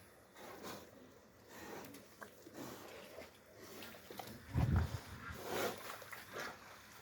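Pigs kept on a farm during a summer heat wave, grunting and snuffling close by, with one louder squeal or grunt burst midway and quieter rustling around it.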